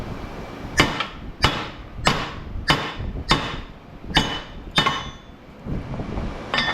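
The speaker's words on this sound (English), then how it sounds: "stop playing around with that baby hammer" A small hammer strikes metal again and again while transformers are scrapped for copper: about seven sharp, ringing blows come at an even pace, close and fairly loud, with a faint clink between some hits.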